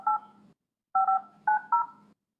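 Telephone keypad dialing tones on a phone in a council chamber: one short tone, a pause, then a quick run of three beeps, clear and close with no talk over them.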